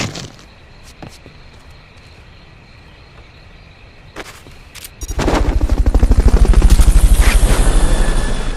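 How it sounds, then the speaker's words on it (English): Metal Gear Solid Fulton recovery helicopter: after a quiet stretch of faint ambience and a few clicks, a heavy rotor chop bursts in near and loud and keeps pounding steadily to the end. "Fulton recovery subject confirmed onboard helicopter"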